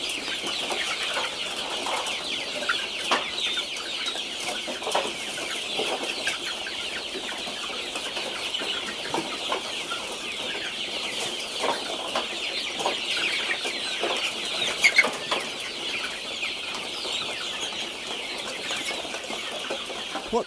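Chickens cluck steadily in a poultry farm of battery-caged layers, a dense chorus of overlapping clucks and calls with occasional louder squawks, sustained throughout and with no talking.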